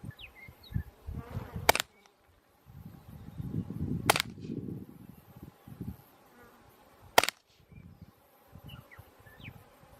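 Three sharp, loud reports from a suppressed .22LR rifle, spaced about two and a half seconds apart, with low rustling and handling noise in between.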